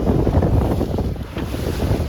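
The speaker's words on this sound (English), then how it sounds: "it's windy out here" Strong wind roars and buffets steadily during a C420 sailing regatta, with rumbling gusts like open water or a boat deck.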